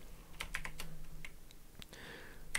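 Computer keyboard typing in a coding session, a short burst of light, quick key clicks, close and fairly quiet, with no talking.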